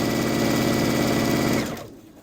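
A Brother sewing machine with a bi-level foot runs a top stitch along a fabric edge, a loud, close, steady mechanical whir that slows and stops near the end.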